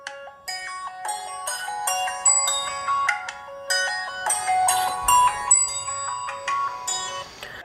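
A ringtone plays through the rear speaker of an HDC Galaxy S5 clone phone (MTK6582): a bright, tinny melody of quick chiming notes in repeating phrases, loud and close, with no talking.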